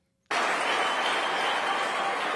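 A large audience breaks into sudden, loud applause after a short silence, a dense, sustained wash of clapping that holds steady to the end.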